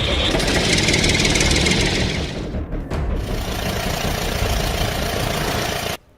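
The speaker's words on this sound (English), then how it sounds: "tractor," Tractor engine running close and loud, a dense steady rumble with a knocking texture that shifts partway through and then cuts off abruptly.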